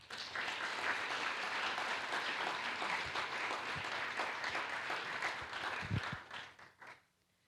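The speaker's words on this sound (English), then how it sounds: "let's give the authors of the distinguished papers another round of applause" An audience at a programming-languages conference business meeting applauds the authors of distinguished papers: dense, sustained clapping that holds steady for several seconds, then tapers off and fades out.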